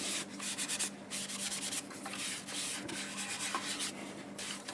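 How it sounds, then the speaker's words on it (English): Abrasive paste rubbed onto a turned wood piece gives a steady, close scratchy rubbing that rises and falls slightly in a continuous pass, with no talk. "I decided I'll go ahead and use Acks abrasive paste on it"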